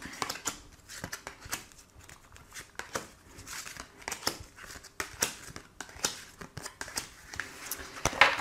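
Tarot cards are shuffled and drawn by hand, giving a close series of soft papery flicks, slaps and riffling crinkles in an uneven rhythm.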